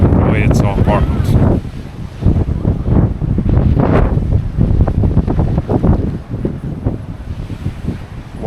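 Heavy wind buffets the microphone in loud, steady gusts at the Rock of Gibraltar while someone talks over it outdoors.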